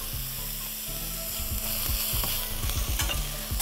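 Garlic frying in a pan, a close, steady sizzle broken by repeated scraping stirs and clattering knocks of a spoon against the pan, with no talking.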